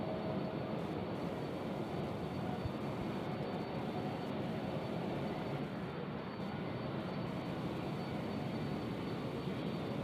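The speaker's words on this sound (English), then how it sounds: "767 headed to Jacksonville" A UPS Boeing 767 airliner at Louisville airport gives off a steady, broad roar of jet engines that fills the whole stretch at constant loudness, heard from some distance with no voices over it.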